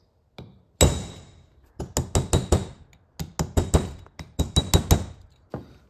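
Hammer blows drive a bearing race into a truck axle housing, sharp metallic knocks landing in irregular bursts of two to four strikes with short pauses, loud and close with no talking.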